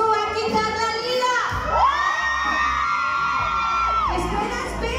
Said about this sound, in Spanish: mujeres, vamos a enseñar a los hombres cómo se grita